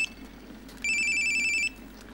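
A telephone ringing indoors, one short electronic trill burst that stops abruptly, over a quiet room.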